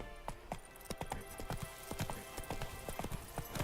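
Roach the horse trots along in The Witcher 3, hooves clip-clopping in a steady quick rhythm at close range, with a faint whinny in the background.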